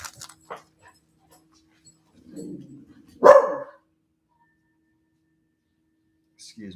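A dog gives a single sharp, close bark after some low grumbling and faint shuffling, with quiet stretches around it.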